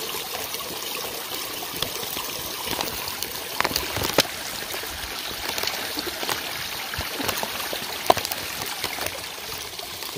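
A mountain stream runs along the snowy, cold Appalachian Trail, its steady close trickle and rush broken by small splashes, with no talking.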